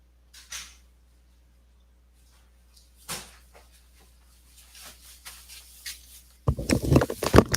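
A door opens indoors: faint creaks and handling taps break up near silence, then a louder burst of rattling and rustling follows at the end. No voices are heard.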